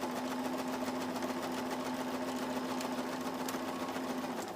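A sewing machine runs steadily and close, stitching a French seam on a dress, its even motor whir and rapid needle patter continuing alone at low level.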